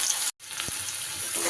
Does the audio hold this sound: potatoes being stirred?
yes